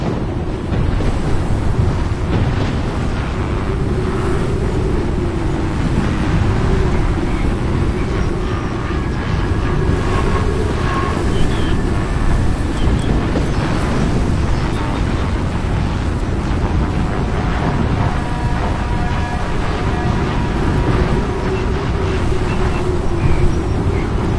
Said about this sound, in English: Warning, tornado 20 feet from car.